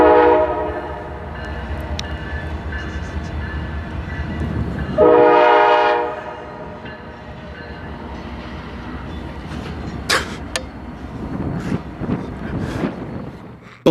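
A Norfolk Southern train rumbles past nearby across the Adrian Diamonds with a loud horn blast partway through, followed by rolling wheel noise and scattered metallic clanks.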